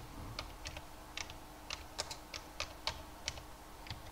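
Typing on a computer keyboard, irregular crisp key clicks in short bursts, close and fairly quiet, with no voice over them.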